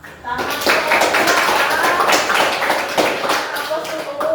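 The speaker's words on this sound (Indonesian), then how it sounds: "Kita beri tepuk tangan." A classroom group claps for fellow students after their presentation, a lively burst of many hands starting just after a short pause and continuing steadily, with a voice heard faintly near the end.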